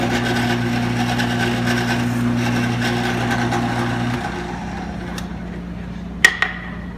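Drill bores holes through wooden back brace pieces, a steady close motor whine that drops off midway and then runs more quietly, followed by a couple of sharp knocks near the end.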